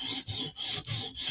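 A Chris Reeve Sebenza blade is drawn across a stone on a TSProf Kadet sharpener, giving steady rasping strokes, about five rhythmic passes close and loud, with no talking.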